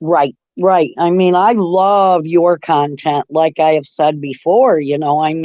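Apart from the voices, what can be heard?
No distinct noise like a dog, phone or traffic.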